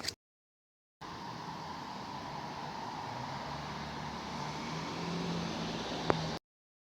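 A car drives through a residential neighbourhood in Ottawa, heard from inside the cabin as a steady, even rush of road and engine noise with no talk.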